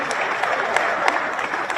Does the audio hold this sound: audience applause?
yes